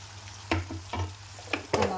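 Chopped tomatoes dropped into hot oil with fried chickpeas for chole masala, crackling and sizzling as a spoon scrapes through in several quick strokes, close up, with no talking.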